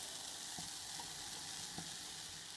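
Tender vegetables and cubes of cornbread, seasoned with salt and pepper, sizzling and frying in a pan: a continuous soft hiss with a few light stirring scrapes and taps, close and quiet, no voices.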